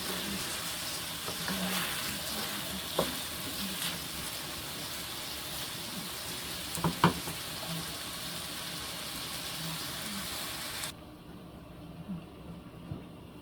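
Rice for mutton biryani frying in a pot, giving a soft steady sizzle with occasional stirring knocks that drops quieter near the end.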